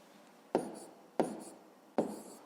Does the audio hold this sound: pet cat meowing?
no